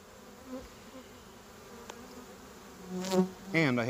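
Honey bees buzz around an opened spring beehive with a cleaned bottom board, a low steady hum under faint background noise, swelling louder near the end as a bee passes close.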